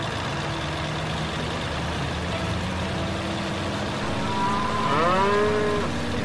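Two newly arrived cows low in a long, rising moo near the end, preceded by the steady drone of an idling truck engine, the moo close and fairly loud.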